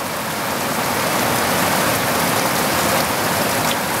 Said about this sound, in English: Now it's so much rain, there's not to be seen.